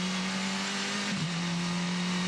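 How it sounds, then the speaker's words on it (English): A Formula 4 open-wheel race car drives around the Symmons Plains circuit in Tasmania. Its engine holds a loud, steady drone with a brief pitch dip midway, like a gear change or lift, and there is no talk. "What a great little race car. Cool watching open wheelers go around."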